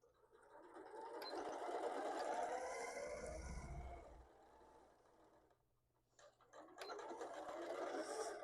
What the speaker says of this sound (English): we're going to sew from that corner all the way down to this corner down here